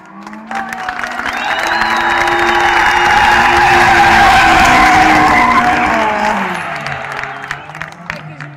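A BMW E36 and a Nissan Sylvia S14 drift in tandem during a drift series final, with loud tires skidding and engines roaring as the cars sweep past. The noise swells to a peak mid-pass and fades, with a crowd faintly audible.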